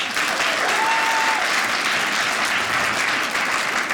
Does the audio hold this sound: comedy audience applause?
yes